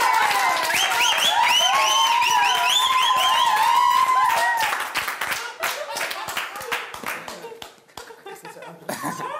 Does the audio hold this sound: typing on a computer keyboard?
no